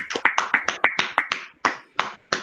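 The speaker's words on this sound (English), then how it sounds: "Let's clap for them." A dozen or so sharp, close claps ring out during an online panel session, at first quick and uneven, then slowing to a few spaced final claps.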